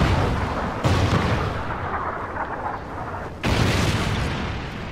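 In a video game, a Trinity rocket strike sets off two heavy, close explosions a few seconds apart, each starting with a sudden loud boom and then rumbling as it slowly fades.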